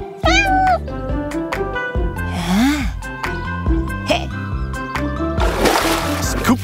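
A cartoon kitten meows in several short, high, bending cries amid busy animated music and effects, with splashy bursts in between and a voice present.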